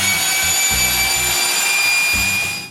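Power driver sinking screws into the tops of wooden posts during shop framing, several short bursts of motor whine with pauses between them, close and loud over a steady background hum.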